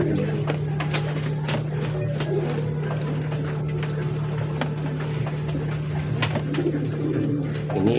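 Pigeons coo softly amid a steady low hum, with scattered clicks and rustles; a voice briefly talks in the background.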